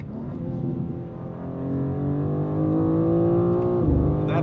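Engine of a BMW M2 CS or Audi RS3 pulling hard under full acceleration, a loud sustained drone climbing steadily in pitch before a quick gear shift near the end, no voices.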